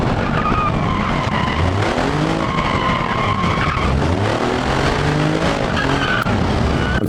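Ibishu Kevin kei truck with a turbocharged 550cc dual overhead cam i3 and 5-speed manual, skidding in BeamNG Drive: continuous loud tire squeal with wavering pitch over a droning engine, close and sustained throughout.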